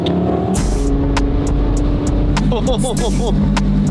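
A supercharged widebody Lamborghini drives with a loud, steady engine roar and heavy low rumble throughout, with brief higher whines and transient noises cutting in, while a voice speaks over it.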